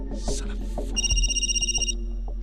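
A telephone rings with an incoming call indoors during a dramatic scene, a bright electronic trill repeating for about a second over low background music and faint room tones, with no talk over it.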